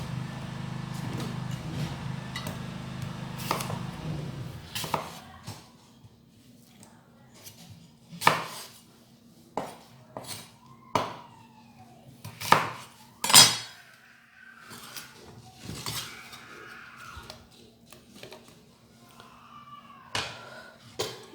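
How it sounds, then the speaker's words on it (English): A knife cuts through an apple on a board in several sharp, separate chops with short pauses between them, close and distinct over quiet kitchen clatter. "we're going to be cutting the apple, and I'm gonna be cutting just half cut of the apple"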